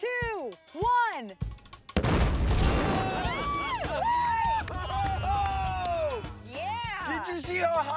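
A C4 charge detonates in a bathtub of water, a sudden heavy boom followed by splashing and noisy wash, with people talking before and afterward.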